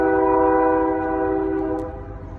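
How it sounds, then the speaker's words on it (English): A loud, sustained train horn blares close by, holding a steady chord for about two seconds before fading slightly. "We got a train going in the background"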